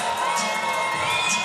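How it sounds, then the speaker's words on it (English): A large fight-night crowd roars and whoops for a Greek fighter from Athens, Greece, a dense, continuous wall of cheering and shouting that stays loud for the whole moment. "Man, listen to the crowd."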